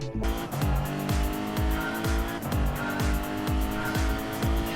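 Racing engines whine and drop in pitch again and again as supercars zoom past in quick succession in a twenty-car PlayStation race, a dense, steady game-style race soundtrack.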